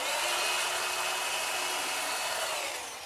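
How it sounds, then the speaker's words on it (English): A drill bores holes into wood for snug dowel pegs, giving a steady high whirring whine that holds evenly before easing off at the end. "So I'll drill a few more of these holes."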